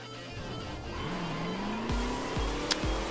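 A rally car in The Crew video game pulls away, its engine revving upward through several quick gear changes with a brief tyre chirp near the end. The sound is close and steady, with no one talking.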